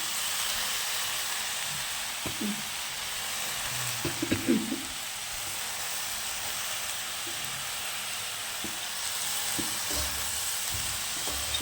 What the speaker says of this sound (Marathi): धुतलेली मेथी ना याच्यात टाकून द्यायची